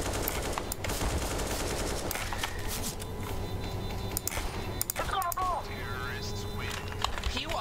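Rapid gunfire crackles in CS:GO, with rifle shots and bursts popping over running footsteps while players talk excitedly throughout.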